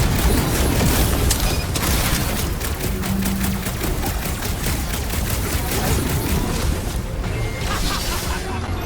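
Rapid gunfire from Marvel's Guardians of the Galaxy, a dense, steady barrage of shots and blasts that runs the whole time, loud and close, with a game voice talking over it in places.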